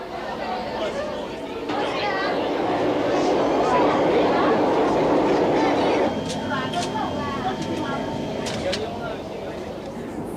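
An MRT train pulls away on its 1987 maiden run from Toa Payoh toward Yio Chu Kang. Carriage rumble swells and then settles beneath a loud, continuous crowd chatter of passengers, with a few sharp clacks later on.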